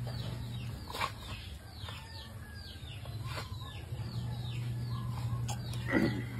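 A chicken clucks in quick repeated calls over a steady low hum, with a few sharper squawks near the end.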